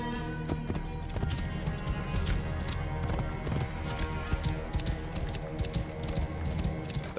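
A horse galloping in the video game Assassin's Creed Origins, rapid rhythmic hoofbeats running throughout amid game ambience and faint background sounds.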